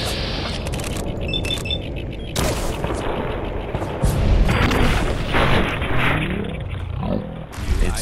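A video game battle erupts in steady volleys of gunfire and heavy booming explosions, loud and sustained, with a voice speaking over the chaos.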